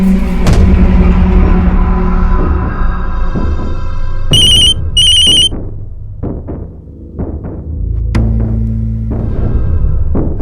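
An incoming call on a telephone rings in two short, bright electronic bursts. They sit over a loud, dramatic crime-show music score with heavy thuds, and no one speaks.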